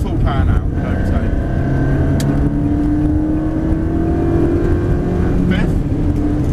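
Ferrari 360 engine accelerating hard at full power on the Dunsfold race track, a steady loud roar with rising pitch through the gears, continuous from start to end beneath an instructor's voice giving directions.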